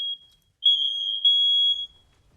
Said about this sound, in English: The alarm keeps going off.